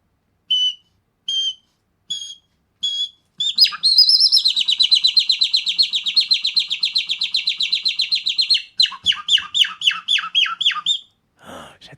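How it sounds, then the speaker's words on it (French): A common nightingale sings loud and close: a few spaced whistled notes, then a long rapid trilling run, followed by sharp repeated chirps and a pause before a final phrase, with no voices. "Le rossignol philomèle, qui est l'oiseau quand même emblématique de la virtuosité, des saccades et de l'envolée lyrique"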